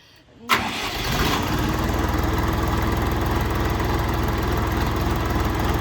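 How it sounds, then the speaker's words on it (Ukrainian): A 2024 RD 244 tractor engine cranks and catches, then settles into a loud, steady, rumbling idle that continues without change. "Двигун гарненько робить, до речі."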